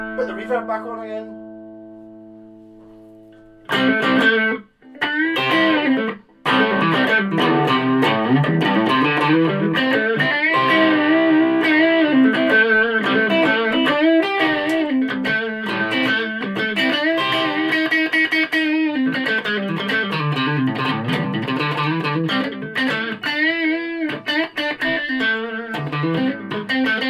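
A Carlton HGS100 electric guitar rings out with reverb in a long, continuous passage of chords and melodic runs, loud and close, after a brief quieter opening and a short pause.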